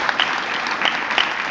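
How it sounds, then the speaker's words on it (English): Audience applause at an awards ceremony, with dense, steady clapping throughout and a few sharper claps standing out, moderately loud and heard without speech. "So a little round of applause for them."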